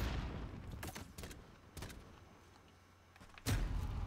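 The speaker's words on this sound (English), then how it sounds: "I'm killing him with the pistol" Pistol shots in a first-person shooter video game, several sharp cracks spaced irregularly, with a louder closing shot, close and crisp over quiet game background.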